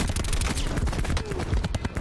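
Rapid gunfire rattles through a shooting video game, dense overlapping shots in quick bursts sounding loud and close throughout.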